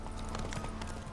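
Geralt's horse Roach in The Witcher 3 trots along with quick, rhythmic hoof clip-clops, close and steady over a faint background hum.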